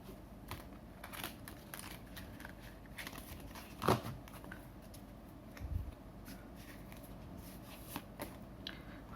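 Tarot cards being shuffled by hand, giving soft, rapid papery riffles and taps that repeat steadily, close and fairly quiet, with one louder slap partway through.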